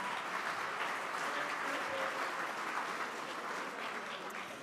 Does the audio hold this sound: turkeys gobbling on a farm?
no